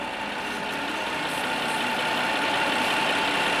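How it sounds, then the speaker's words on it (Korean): A used Hyundai Grandeur HG's engine idles smoothly and quietly up close, a constant low hum with no revving and no voices. "해당 차량 엔진 소리가 굉장히 정숙합니다"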